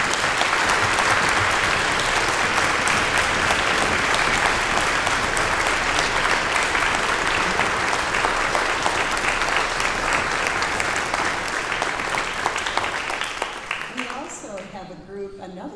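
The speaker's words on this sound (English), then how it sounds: "I'd like you to join me in thanking them with a round of applause" Sustained applause from a large university ceremony audience thanking the trustees, loud and dense clapping that fades out over the last couple of seconds.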